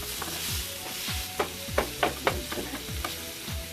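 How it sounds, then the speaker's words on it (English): Minced sausage sizzles and crackles in a pan, with repeated stirring and scraping strokes roughly every half second and a steady frying hiss underneath, close and moderately loud, with no talking. "let the sausage cook for a while"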